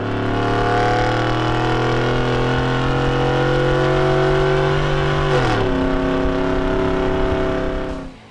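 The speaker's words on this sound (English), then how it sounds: "The Outlaw is an absolute screamer, guys, that will definitely not disappoint in the volume department" A 5-liter Ford F-150 with an Outlaw cat-back exhaust, loud and close, holding a steady high rev for several seconds, then dropping sharply and settling briefly before cutting off, with no talking.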